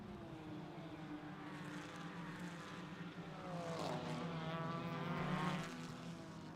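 Several race cars in a club member challenge race run close together on a road course's south straight, a sustained engine drone that swells louder as the pack passes nearby.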